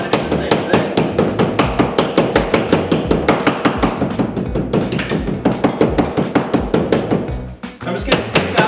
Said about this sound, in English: I'm just going to take my hammer and I'm going to do the same thing.